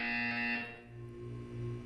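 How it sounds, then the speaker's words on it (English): An electronic buzzer in the video game Portal 2 drones steadily for about half a second, then fades into a lower sustained electronic hum, with no talk. "You will hear a buzzer."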